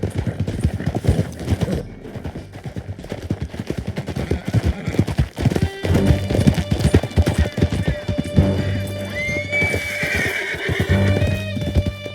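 Horses in the Red Dead Redemption 2 video game gallop with steady, close clip-clop hoofbeats and give repeated neighs and whinnies, with faint gunfire and a brief voice mixed into a busy game scene.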